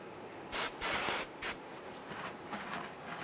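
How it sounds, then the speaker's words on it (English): Three or four short, sharp bursts of aerosol solvent spray hiss up close onto brake parts of a 1994-2004 Ford Mustang, followed by quieter background noise. "We're going to spray this with some solvent"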